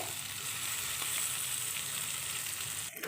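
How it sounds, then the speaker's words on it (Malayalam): Kalmav snack sizzles steadily in a pan of hot oil, a dense, even frying hiss that holds for the whole stretch with no voices. "ഇനി നമുക്കിത് ഫ്രൈ ചെയ്തെടുക്കാം"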